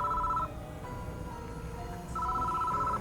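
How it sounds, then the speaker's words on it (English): A desk phone rings in the horror game Death Mark 2, with two clear bursts of electronic ringing at the start and end of the clip, separated by a quieter gap, heard alone with no voices. "The phone on the desk is ringing."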